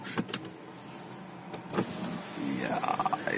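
Electric sunroof motor whirring open on a BMW X6 SUV, a steady mechanical hum inside the cabin that rises toward the end, with a few clicks and faint background noise.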